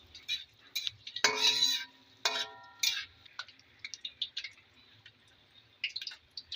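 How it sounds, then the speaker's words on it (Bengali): Dried red chillies and other ingredients for sweet green mango pickle being stirred in a pan, with irregular light clinks and taps of a utensil against the pan, a few louder scrapes early on, and fairly quiet surroundings. "আবার সব কটা উপকরণ একবার নেড়ে নেবো, ভালো করে একটু ভেজে নেবো।"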